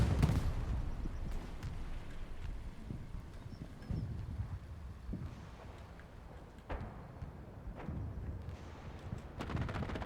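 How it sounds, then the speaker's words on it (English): An Axis aircraft strafing run in the World War II shooter Hell Let Loose brings bursts of booming gunfire and heavy impacts, loud and close at the start, then repeated thuds and rumbling explosions at moderate distance over battlefield noise. "Strafing run comes in from the Axis."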